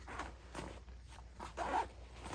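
The zipper on a multi-purpose pouch of an Elevate Pursuit upland hunting vest is pulled in several short, rasping strokes, close and fairly quiet, with no talk.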